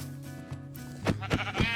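Sheep in the Minecraft video game bleat close and clear several times, with short wavering calls over a steady low game music background.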